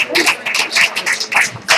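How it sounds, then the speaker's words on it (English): A comedy night audience at an inn claps in quick bursts, loud and close, with a few shouts. "Give yourselves a round of applause."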